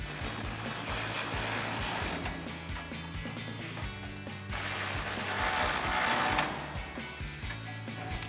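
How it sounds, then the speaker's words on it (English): A ratchet with an 18 mm socket tightening nuts on the rear bumper mounting studs of a 2019-2024 Chevrolet Silverado 1500, giving steady, rapid, close-up clicking with a brief slowdown midway and no voices. "Use our 18 millimeter socket on our ratchet to tighten these back down."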